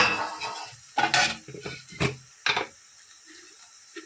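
A spoon scrapes and knocks against a cooking pot while jackfruit vegetable is stirred, a few distinct clattering strokes close by, separated by quiet gaps, with faint low talk in the background.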